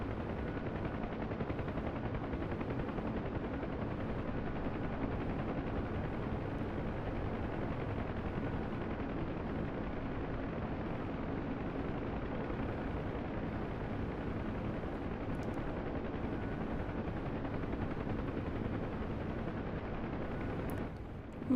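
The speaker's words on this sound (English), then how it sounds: "There was a helicopter there." Inside a helicopter in the DCS World flight game, a steady dense rotor and engine roar runs unbroken and loud for the whole stretch, with no talking over it.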